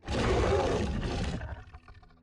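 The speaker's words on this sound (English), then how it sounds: "New sound effects have been given to quite a few parasites" A parasite creature from the Scape and Run Parasites Minecraft mod lets out a single loud, close, guttural roar lasting about a second and a half, then trails off into a rough growling tail.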